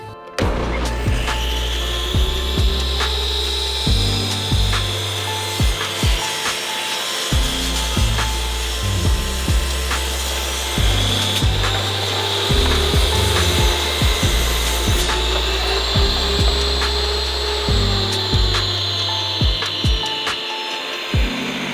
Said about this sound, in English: So let me go ahead and cut these pieces and then router them out too.